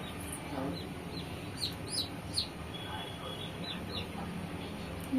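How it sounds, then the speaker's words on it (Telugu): A chick peeps in short, high, faint chirps while drinking water in a quiet outdoor home setting, the calls spaced irregularly over a low background hum. "ఇక కోడి పిల్ల అయితే తాగుతుంది"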